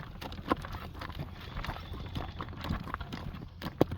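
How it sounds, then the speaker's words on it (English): A horse's hooves clip-clop in a quick, steady fast-walk rhythm on a caliche dirt road, close and fairly clear over light outdoor background noise, with no talking. "And this horse has got an incredible fast walk on him."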